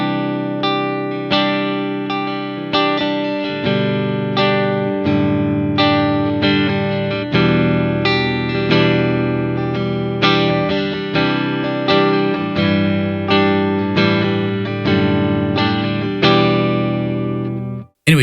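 Electric guitar played through an IK Multimedia Dr. Z MAZ18 Jr amp model, a steady run of picked chords and notes with clear attacks and ringing sustain, alone without talk.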